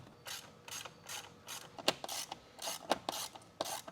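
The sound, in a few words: ratchet loosening 7mm bolts on Jeep Wrangler speaker box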